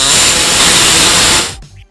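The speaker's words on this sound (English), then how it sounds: "We're going to go ahead and open it up a little bit by using our air saw right here" A pneumatic air saw cuts a small notch into a steel trailer hitch on a 2006 Chrysler Town and Country, a loud steady buzzing hiss for about a second and a half before stopping abruptly.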